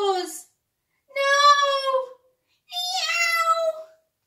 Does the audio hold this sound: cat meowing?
yes